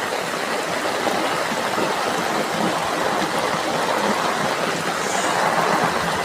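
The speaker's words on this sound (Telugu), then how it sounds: "ఇంట్లోకి వాటర్ వచ్చేస్తున్నాయి ఆల్రెడీ." Floodwater rushes past near a house in a steady, dense roar of flowing water, unbroken and fairly loud for the whole stretch.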